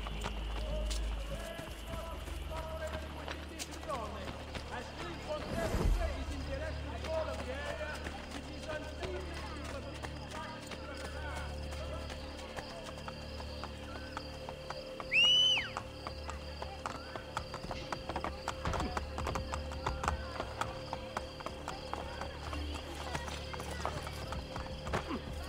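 A horse gallops in the video game Assassin's Creed Brotherhood, its rapid hoofbeats a steady rhythmic clip-clop running throughout, with a brief whinny partway, and someone talking over it.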